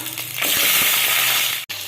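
Loud, steady sizzling of garlic and onion frying in hot oil, close up, with a brief stirring scrape and a sudden momentary drop near the end.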